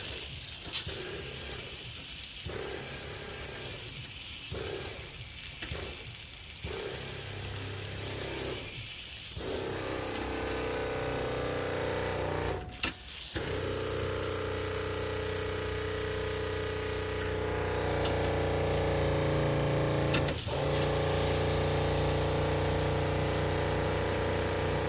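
A 24V Everflo high-flow water pump priming, its motor first chugging in irregular sputtering bursts as air passes through, then settling into a steadier, louder whine with a couple of brief interruptions.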